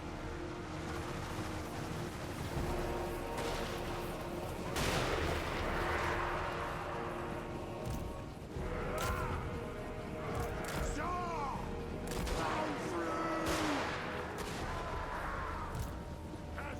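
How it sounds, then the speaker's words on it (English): Cannons boom again and again across a fantasy battlefield in a Warhammer strategy game, sharp blasts and rolling reports over a constant battle din, with a few brief voice-like calls. "Cannons had fun on this battlefield"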